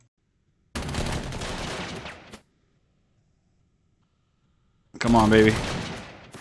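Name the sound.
artillery fire in the video game Panzer Corps 2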